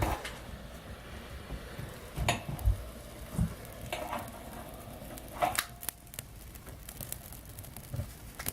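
A wood stove being lit in a cold house, with close crackles, snaps and rustling of kindling in an irregular patter over a soft background hiss.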